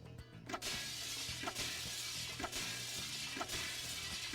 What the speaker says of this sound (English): that's much better than running around smashing pots